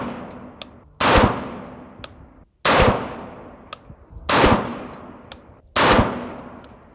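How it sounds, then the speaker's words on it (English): Distant gunfire from people shooting out at a range, four sharp reports spaced about a second and a half apart, each with a rolling echo tail, loud against a quiet outdoor background. "I do have some people shooting off in the distance here"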